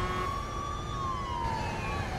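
A police siren wails in the 1940s–50s crime game Mafia II, a single wavering tone gliding slowly up and down over a dense background rumble of game noise.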